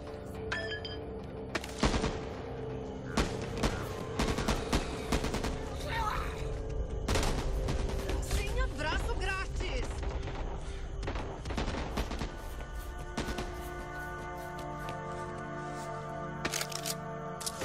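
Sustained video game gunfire aimed at zombies, steady cracks and rapid bursts of shots continuing throughout, with sharp single reports standing out and voices occasionally heard.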